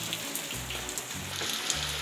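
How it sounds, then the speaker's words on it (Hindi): Steady morning rain in the mountain town of Dharamshala, falling continuously on surfaces with a soft, even patter and no voices. "सुबह से बारिश हो रही है"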